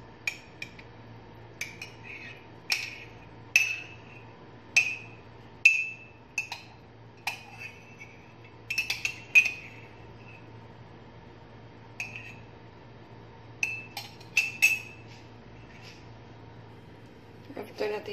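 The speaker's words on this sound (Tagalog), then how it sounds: "Isunod natin ihalo ang ice natin." Ice cubes dropped one after another into a Nutribullet cup for an avocado shake, giving sharp, irregular clinks and knocks over a steady low hum, close and clear.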